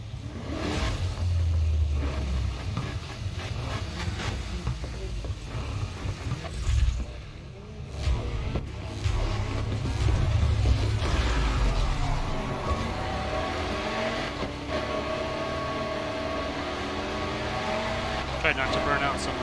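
Cars race in Need for Speed Heat, with a loud, continuous engine roar that swells and shifts throughout and a dense rumble underneath, while a person talks over it.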